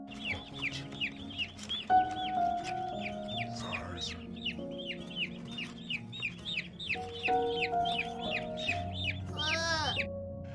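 Baby chicks in a scene from the film My Lovely Angel peep in rapid, repeated high chirps throughout, clearly heard over soft background music.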